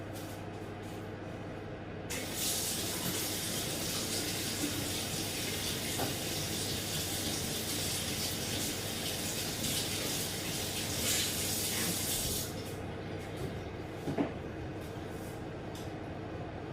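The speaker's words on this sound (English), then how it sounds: "I'm going to just pop over there and wash my hands." A kitchen tap runs steadily while someone washes their hands. The water is a loud, broad rush that lasts about ten seconds and then cuts off to quieter room noise.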